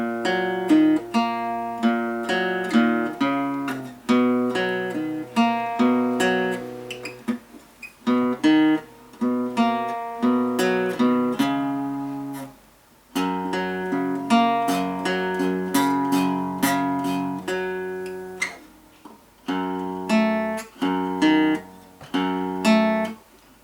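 An acoustic guitar with a capo plays a song, strummed chords and picked notes in a steady repeating pattern with brief pauses, close and alone without any voices.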